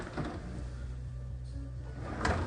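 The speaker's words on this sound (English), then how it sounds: "And then a drawer under that." A kitchen drawer beneath a combination microwave oven in a student accommodation kitchen slides open or shut with a brief, soft rumble near the end of an otherwise quiet room.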